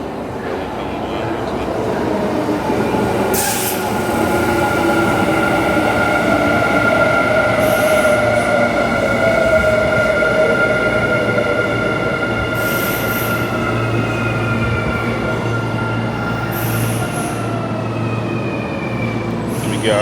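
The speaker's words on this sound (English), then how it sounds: "Got a train pulling up on the other side." A train pulls into a station in Japan, rumbling steadily alongside, wheels grinding and brakes squealing faintly as it rolls in, with a loud continuous mechanical roar and a few background voices.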